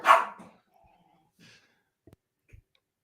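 A dog gives one sharp, close bark at the start, followed by faint breathy snorts and a few small knocks in otherwise quiet surroundings.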